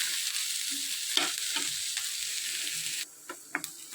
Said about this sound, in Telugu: దొండకాయలు ఇలా వేగాలి